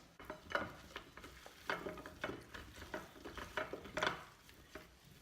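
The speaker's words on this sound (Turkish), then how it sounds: "Evet güzelce karıştırdık." Kebab ingredients, spiced with cumin, being stirred in a bowl: a quiet, regular series of scraping, squelching strokes, each a short soft swish, repeated about a dozen times with nothing else heard.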